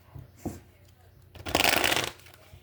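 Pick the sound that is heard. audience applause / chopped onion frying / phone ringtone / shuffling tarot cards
shuffling tarot cards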